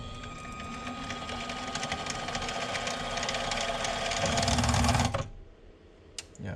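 A mini mill or mini lathe cutting metal with cutting fluid while making clevises, a steady, dense mechanical whir and chatter that runs for several seconds, then cuts off and leaves a quiet tail with a faint knock.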